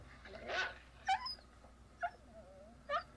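Lester the dog barks in a scene from the 1978 film Halloween: three short, high, yelping barks spaced about a second apart, faint and somewhat distant, with no talking.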